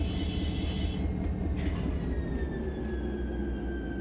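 A train rolls steadily along in the Run 8 Train Simulator III game, with a constant low rumble of wheels and engine and a faint, thin squeal rising over it partway through. No one speaks.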